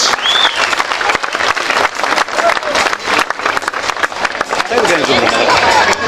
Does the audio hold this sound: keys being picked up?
no